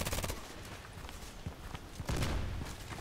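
Semi-automatic TT pistol fire in the shooter game Contract Wars, a handful of separate shots spaced irregularly, mixed with footstep-like thumps and a louder burst near the end.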